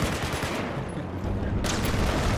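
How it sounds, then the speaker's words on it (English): Loud, sustained gunfire in a Battlefield 4 multiplayer match, a dense rattle of rapid shots with a sharper burst toward the end, close and continuous. "someone's shooting at us"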